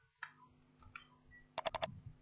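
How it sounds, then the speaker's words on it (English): A computer mouse is clicked in quick succession, four sharp close clicks in a tight burst near the end, after a few fainter scattered ticks. "double click the smart object icon, click OK"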